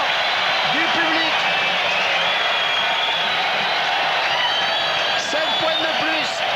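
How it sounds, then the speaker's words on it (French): A large stadium crowd at the 1995 Rugby World Cup match between France and Côte d'Ivoire applauds a try, producing a dense, continuous roar of clapping and cheering with a voice briefly heard over it. "Sous les applaudissements du public."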